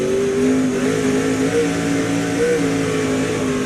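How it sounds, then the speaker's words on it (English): Tony Stewart's race car engine on the throttle in an SRX race at Eldora dirt track, a loud steady roar with pitch rising and falling as the throttle is worked, continuous and close for the whole stretch. "Fun to listen to him use that throttle through there"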